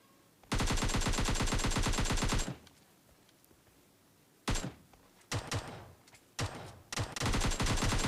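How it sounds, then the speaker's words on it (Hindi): Automatic gunfire in PUBG Lite, a long rapid burst of shots at close range, then a pause, followed by several shorter bursts and single cracks. "मुझे पीछे से और फायरिंग की आवाज़ आती है"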